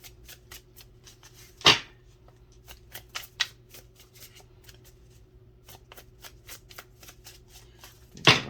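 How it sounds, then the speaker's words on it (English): Tarot cards shuffled by hand at close range, giving a steady run of crisp riffling flicks broken by a few sharper taps, with low background hum and no talking. "Another shuffle."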